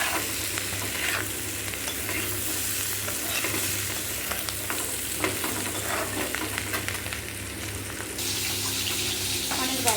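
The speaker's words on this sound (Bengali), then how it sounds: "এবার আরও কিছুক্ষণ ভালো করে ভাজবো এটাকে লঙ্কা গুঁড়ো দিয়ে দিলাম" Mixed vegetables sizzle and fry with chili powder masala in a pan, a steady broadband hiss with stirring scrapes throughout and a faint water-like rush, close and continuous with no voice.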